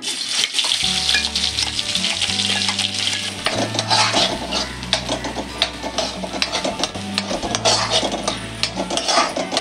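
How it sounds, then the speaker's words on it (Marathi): Spice masala hits hot oil in a kadai for Kolhapuri misal, a loud bright sizzle broken by scraping stirs and clicks, with music playing underneath. "आता आपलं तेल तापलेलं आहे, याच्यामध्ये मी मसाला ॲड करते."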